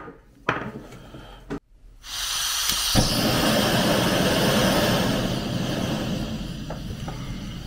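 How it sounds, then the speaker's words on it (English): A Simple Theory Gear Pack Stove XL running on a gas canister burner: after a few clicks and knocks, a steady close roaring hiss starts and holds evenly to the end. "Simple Theory Gear Pack Stove XL with a gas burner."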